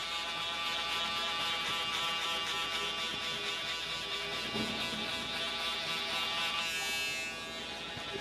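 An electric hair trimmer buzzes continuously at a barber shop, a close, even drone that holds steady throughout with only slight shifts in tone.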